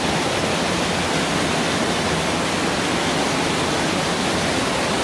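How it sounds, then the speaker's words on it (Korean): Waterfall inside a cave, a loud, unbroken roar of heavily falling water that fills the whole space evenly from start to finish, with no voices. "물이 많이 내리고 있어요. 그냥 거의 폭포수에요, 폭포수."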